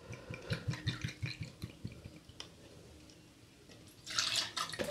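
About four centilitres of amber rum is poured into a cocktail: light drips and splashes come first, then a short, close stream of liquid pours in at the end.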